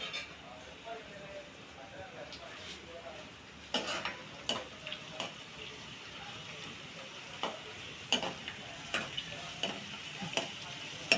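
Onions and other ingredients frying in oil for a gongura-style leafy greens rasam, a steady soft sizzle with scattered sharp clinks of a spoon against the pan, close by; a voice talks over part of it.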